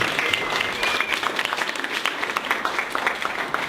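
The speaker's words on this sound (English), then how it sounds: "Let's give Derek a round of applause." An audience at a marketing talk gives Derek Mehraban a round of applause, a loud, dense burst of many hands clapping that runs continuously for several seconds.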